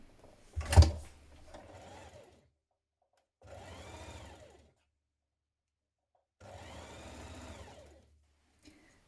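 A loud thump opens, then a sewing machine stitches a tiny hem round a blouse sleeve's overlocked, turned-up edge in two short, fairly quiet runs of even whirring with silence between.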